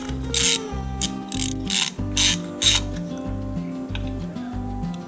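A hand ratchet backs a spark plug out of a 2005 Honda CR-V engine, clicking in quick repeated strokes up close, loud and steady with little talk.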